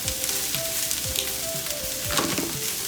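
Broccoli stems, florets and white mushrooms sauté in a pan with a loud, steady sizzle and crackle, punctuated by occasional stirring scrapes, close up with no talking.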